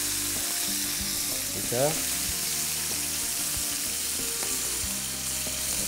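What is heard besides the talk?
chicken pieces frying and sizzling in a pan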